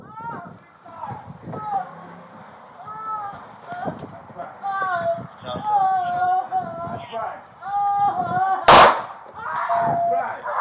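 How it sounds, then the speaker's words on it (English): A gunshot during a police domestic violence call, heard as a single sharp loud crack near the end, while a voice talks over radio chatter throughout. "Shots fired, shots fired."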